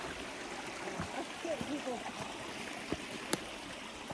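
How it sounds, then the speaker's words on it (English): A small shady creek flows in a steady broadband wash, with soft footsteps and a few clicks over it, and voices murmur faintly in the background. "my long legs cross this little creek here"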